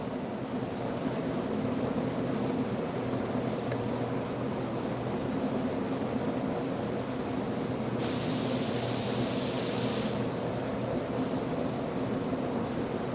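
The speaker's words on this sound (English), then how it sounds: "Putting some ceramic slide grease on the pins." Ceramic slide grease sprayed onto brake pins makes a sharp hissing burst of about two seconds over a constant loud broadband rush of background noise, with no talk.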